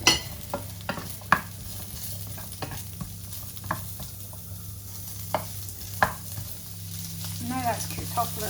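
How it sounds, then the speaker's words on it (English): Chorizo frying in a pan at the start of a chilli sauce, a constant hiss of sizzling fat with repeated sharp utensil taps and scrapes against the pan, close-up over a low steady hum. "We're going to fry off our chorizo just for a couple of minutes."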